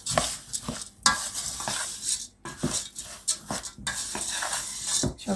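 A spoon stirs rolled oats into a thick cookie dough, making close, rhythmic bursts of scraping and clacking separated by short pauses.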